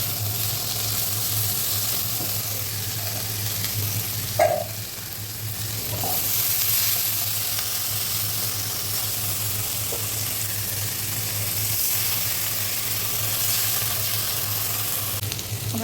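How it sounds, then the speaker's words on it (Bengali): Potatoes with a little turmeric fry in a pan with a steady, even sizzle and hiss throughout. A couple of faint stirring clinks break in along the way. "আমার আলু কষানোটা শেষ হয়ে গেছে"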